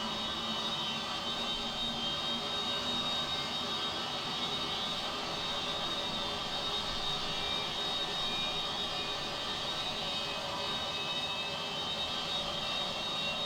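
A steady, loud jet-engine roar and whine in the Prepar3D v5 flight simulator as the engines spool up, continuous and unchanging across the stretch, with no voices.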